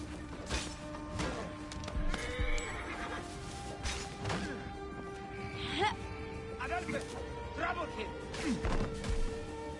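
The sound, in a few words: horse neighing in Assassin's Creed Origins video game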